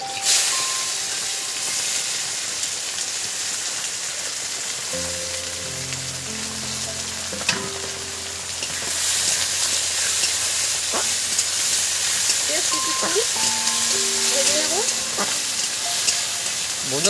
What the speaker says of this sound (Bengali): ওই তেলের মধ্যে আমি দুটো কাঁচা লঙ্কা দিচ্ছি আর তেজপাতা দিব কেটে রাখা পেঁয়াজগুলো দিয়ে দিচ্ছি